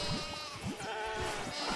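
Sheep bleating in a video game, a couple of short wavering bleats in quick succession over faint background music, moderately quiet.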